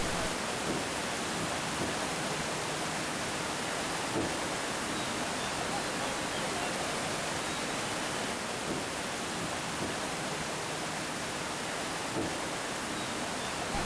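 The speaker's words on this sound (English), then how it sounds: "It's a beautiful sight to see the water of the river Mandakini flowing at its full thrust towards Sonpreg." The Mandakini River in the Himalayas near Gaurikund rushes at full force toward Sonprayag, a dense and unbroken roar of water that stays even and steady throughout.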